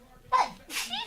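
A single close, sharp human sneeze bursts out, followed by a second breathy burst and a brief vocal sound right after.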